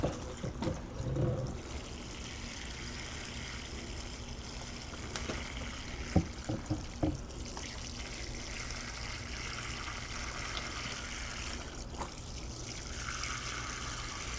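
Water poured from a can onto a damp garden plant, a steady soft splashing trickle that runs throughout with no voices.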